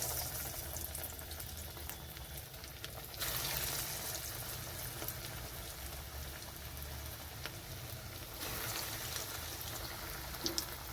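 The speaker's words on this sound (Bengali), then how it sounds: "তো ভাজার জন্য ছেড়ে দিচ্ছি।" Chicken balls frying in hot oil in a wok, a soft, rain-like crackle and hiss throughout with two louder bursts of sizzling, no speech.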